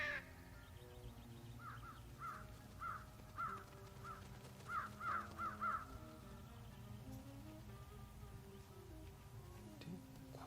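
A crow in the Trüberbrook video game gives a series of quick, moderately loud caws in the first half, set against a low, humming ambient background.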